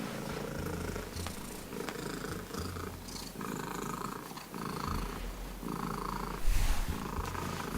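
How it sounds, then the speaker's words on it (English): A domestic cat purrs loudly and steadily in an attempt at a loudest-purr record, a continuous rumbling drone close to the microphone that swells in rhythmic pulses with each breath. "This is an official attempt for the loudest purr by a domestic cat"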